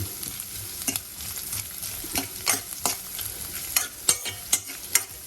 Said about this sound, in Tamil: நல்லாவே வறுத்துருக்கோம் நெய்யில்